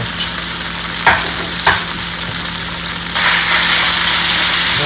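Beef and asparagus stir fry sizzling steadily in a pan, a loud continuous frying hiss with a couple of brief clanks from stirring and a sudden surge of sizzle near the end.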